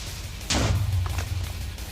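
A Minecraft creeper explosion from the video game, a sudden loud burst with a deep, rumbling low-end boom that lingers and slowly decays, heard alone.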